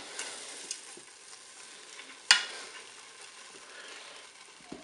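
Guinea fowl sizzles softly in a Cookeo multicooker pot as broth goes in, a steady fry hiss broken by one sharp splash-crackle near the middle and a few light clinks.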